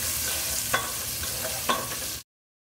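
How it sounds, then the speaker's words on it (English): Curry chicken ingredients get stirred around in hot oil, a loud continuous sizzle with two sharp spoon scrapes against the pan before it cuts off abruptly. "we're gonna stir it around with the oil"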